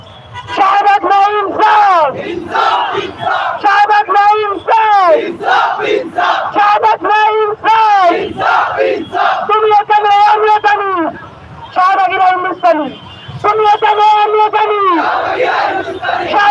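A large crowd at a rally in Bangladesh chants political slogans in loud, rhythmic unison, voices rising and falling in repeated call-and-response bursts that carry steadily from start to finish.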